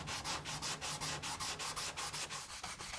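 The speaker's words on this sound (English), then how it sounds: "I can get a buffing cloth and I can buff it thoroughly" A buffing cloth rubbing wax into a wood surface in quick, even back-and-forth strokes, a steady rhythmic scrubbing hiss, close and quiet with no talking.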